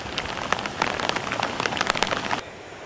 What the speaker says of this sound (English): there's the rain coming down in the lake